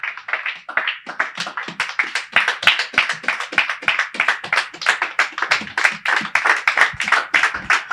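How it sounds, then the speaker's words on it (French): Congregation at a church service clapping in a steady, fast rhythm, dense and close, continuing without pause and with no talking over it. "On acclame le Seigneur"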